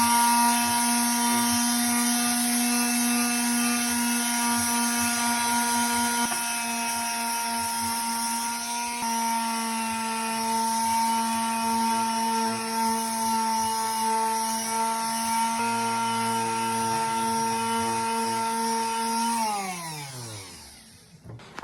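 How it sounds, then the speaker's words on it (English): An electric sander smoothing putty on a twin bed frame whines loudly and steadily up close for a long stretch, then spins down to silence at the end. "everything's sanded down, all the putty's sanded down smooth, and now it's ready for her to paint."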